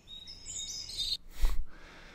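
Bright high bird chirps trill for about a second, then a short whooshing burst cuts in, followed by quiet.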